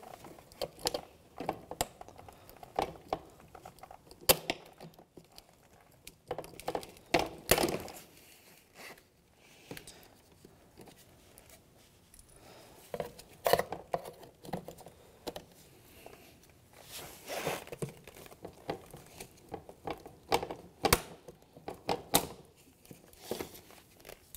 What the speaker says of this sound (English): I'm going to go ahead and remove those, the panel tool.